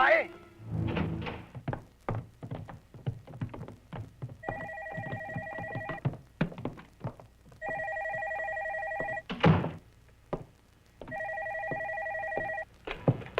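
A telephone rings in repeated double bursts between bits of tense talking, the ringing clear and fairly close.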